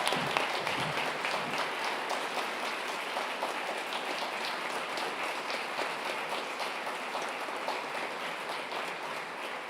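An audience at a school graduation ceremony claps in sustained, dense applause that holds steady throughout, loud and close with no talking over it.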